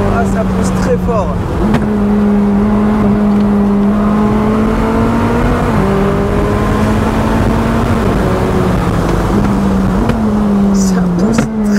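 A car engine pulls hard under sustained acceleration, its droning pitch climbing steadily with brief dips at gear changes, loud and close, with a voice speaking over it.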